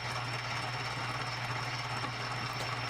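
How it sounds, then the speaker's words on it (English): Metal lathe turning down and squaring parts, a steady droning motor hum with a faint high whine and rough cutting noise, continuous and close, with no talking. "trying to shorten them down and square them off and everything right on the lathe here"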